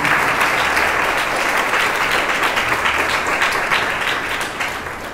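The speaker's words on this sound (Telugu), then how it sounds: "చప్పట్లు కొట్టండి గట్టిగా." A church congregation at a special prayer meeting claps loudly and steadily, a dense sustained wash of applause that tapers slightly near the end.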